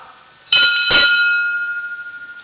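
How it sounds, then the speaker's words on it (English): A bell is struck twice in quick succession, loud and close, and a clear metallic tone then rings on and slowly fades. "When the bell is struck"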